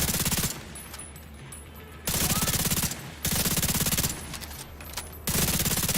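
Rapid automatic gunfire in The Division 2, loud bursts of dense, rattling shots alternating with quieter stretches of lighter firing across the whole stretch, no talking.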